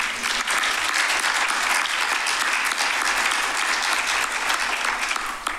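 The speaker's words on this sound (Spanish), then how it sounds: "gracias Elisa, un aplauso" Audience applause at a seminar on inclusive and citizen science, a dense, even roar of clapping from a seated crowd that stays loud and unbroken throughout.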